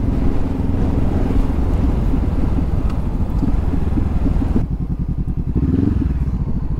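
A Honda CB500F motorcycle engine runs steadily and close, with a low rumble through wind noise. It briefly changes pitch partway through as the throttle shifts, then keeps pulling on.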